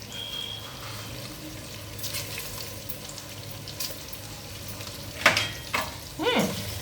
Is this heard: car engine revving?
no